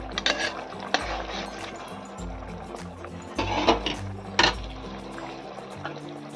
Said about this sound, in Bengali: আমি কয়েকটা আম ঘেঁটে দেবো যাতে ঝোলটা একটু ঘন হয়